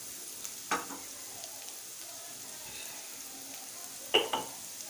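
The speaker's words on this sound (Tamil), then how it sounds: "வெங்காயம் நல்லா வதங்கட்டும்." Onions sautéing in a pan for masala dosa filling, giving a soft steady sizzle with two brief louder stirring or scraping bursts, and no talking.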